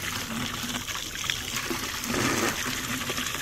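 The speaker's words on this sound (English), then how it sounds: "Well, here's the artesian well." Water pours steadily from an artesian well outdoors, a continuous broadband splashing and trickling that stays fairly loud and constant throughout.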